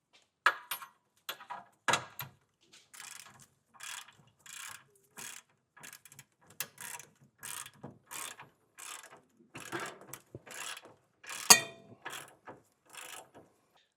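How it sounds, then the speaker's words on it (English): A wrench snugging down bolts on a B&W Companion 5th wheel trailer hitch underbed kit, with quick, close ratcheting clicks coming in short bursts separated by brief pauses, no talking. "So we'll get the threaded ones in and also get our wrench on these ones and get those snugged down."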